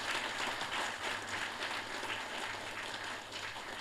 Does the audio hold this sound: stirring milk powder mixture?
no